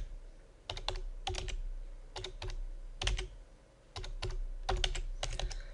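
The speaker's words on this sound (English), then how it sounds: "So I'm just randomly typing in some figures for these particular months." Figures typed into a spreadsheet on a computer keyboard, quiet, close clusters of rapid key clicks in short bursts separated by brief pauses, with no talking.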